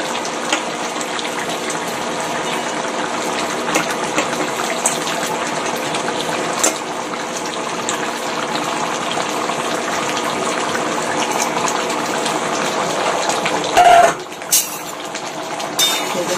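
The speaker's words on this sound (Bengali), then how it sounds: "জল ফুটে উঠেছে, এখন মাছগুলাকে ছেড়ে দিব।" A pot of water for a thin hilsa and eggplant curry bubbles at a rolling boil, a steady close rush of water, with a brief clink of utensils near the end.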